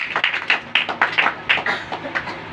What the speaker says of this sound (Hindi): भाई सबके लिए एक बार जोरदार ताली